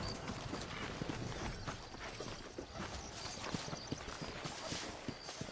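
Horse hooves clip-clop in Red Dead Redemption on PS3 as riders travel alongside a wagon, a steady close rhythm of hoofbeats that fills the whole stretch with no talk over it.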